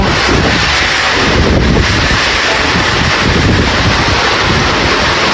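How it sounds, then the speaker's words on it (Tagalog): A powerful typhoon gust roars relentlessly at a damaged rural homestead in the Philippines, close heavy buffeting noise filling the whole moment without pause or speech. "Grabe pong lakas ng hangin."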